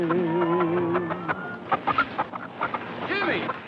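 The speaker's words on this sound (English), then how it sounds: "Chicken?" Chickens cluck in short, close bursts in the second half of the scene from a 1946 Western, following a sustained tonal sound at the start.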